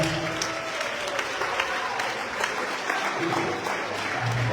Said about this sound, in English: let's give Miss Sarah Stringer a round of applause, please